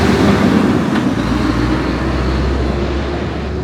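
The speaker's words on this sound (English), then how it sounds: "Let's let this loud truck go by." A loud truck passes on a street in Flagstaff, Arizona: a heavy, rumbling engine roar close by that slowly eases as it moves on.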